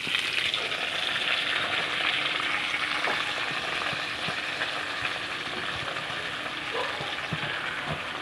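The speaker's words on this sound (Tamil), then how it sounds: "மீதி புதினா கொத்தமல்லி கருவேப்பிலை இதை போட்டு வதக்க போகிறோம்." Mint, coriander and curry leaves sauté in a hot pan for a thuvaiyal, giving a continuous loud sizzle and crackle with occasional stirring scrapes, close up and without speech.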